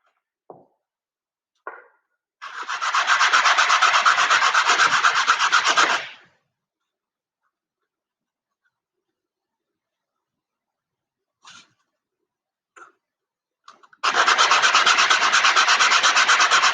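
Sandpaper rubbing on wood parts of a Midwest Products basic truss roof two-bedroom model house kit: a long steady rasping stretch, a few brief taps, then another sustained bout of sanding, close and clear.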